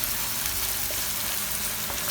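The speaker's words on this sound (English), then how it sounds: "As the onion is frying, you can add in a teaspoon of sugar which we have kept aside." Onions fry in a pan with a teaspoon of sugar added to caramelize them, giving a steady, dense sizzle that stays even throughout with no voices over it.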